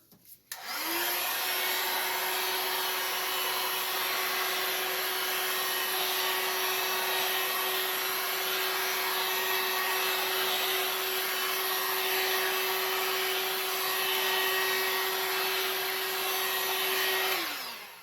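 Heat gun blowing over epoxy resin art, a loud, steady close-up whoosh with a constant motor whine that runs unbroken for well over fifteen seconds before cutting off.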